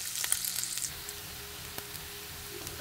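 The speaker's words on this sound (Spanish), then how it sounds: "aquí tengo las tortillas, ya se están dorando" Corn tortillas frying and browning in a pan as chilaquiles with chorizo are made, producing a quiet, steady sizzle with a few soft crackles and pops close by.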